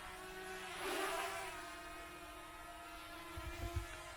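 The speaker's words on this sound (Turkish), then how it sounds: "Drone'u şimdi üstümüze doğru getirelim." A DJI Mavic Mini drone flies overhead outdoors, giving a steady buzzing whine that swells as it passes close, with a low rumble of handling or wind near the end.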